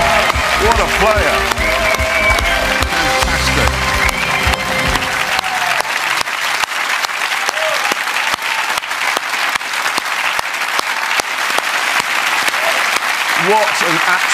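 A studio audience at a game show closing breaks into loud, sustained applause, dense clapping that fills the room and continues throughout, with voices over it early on.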